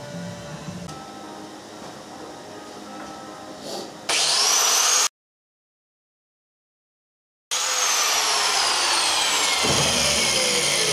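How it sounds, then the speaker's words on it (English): Angle grinder stripping paint off steel on an eXmark Lazer Z zero-turn mower hitch before welding, a loud sustained whine that cuts out briefly, preceded by quieter shop noise. "And then grind off all the painted areas where I'm gonna be welding."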